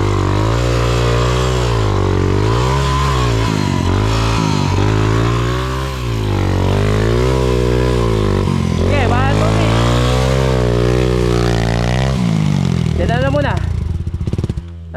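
A motorcycle engine runs loud and close on a rough mountain trail in Aurora, rising and falling as the rider revs and eases off, with a strong low drone and sharper revs near the end.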